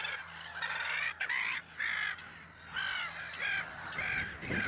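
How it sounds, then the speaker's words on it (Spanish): A nesting colony of many bird species calls at once, a dense, continuous chorus of harsh honking and cawing voices in overlapping bursts, fairly close and loud, with a steady low hum beneath. "el rumor que produce una colonia, con las distintas voces de tantas aves y especies"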